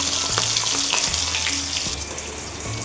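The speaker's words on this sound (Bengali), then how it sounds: "আবার আস্তে আস্তে মাথা ভাজা হোক।" Steady sizzling of a fish head frying in hot oil, a continuous crackling hiss at close range, with a few low clunks of utensils.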